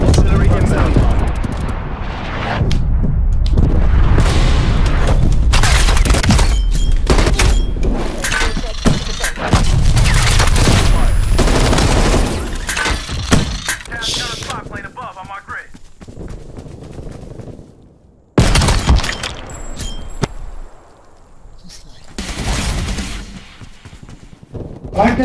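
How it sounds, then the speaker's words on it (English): Artillery strike explosions in Call of Duty Black Ops Cold War, a series of loud, booming blasts with crackling debris over about fifteen seconds, then a brief lull before another heavy impact and rumbling aftermath. "Artillery targeting detected. Artillery inbound."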